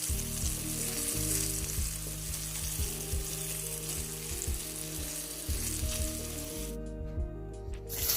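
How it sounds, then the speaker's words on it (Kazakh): Meat cutlets fry in hot oil with a dense, continuous sizzle and crackle, close and steady throughout with no voices. "қызып тұрған сұйық майға екі жағынан қызартып қуырамыз"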